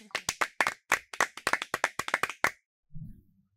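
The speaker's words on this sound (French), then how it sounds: "Sous vos applaudissements" A small group claps for a school student speaker, a quick run of sharp, distinct claps for about two and a half seconds before stopping, followed by a brief low murmur.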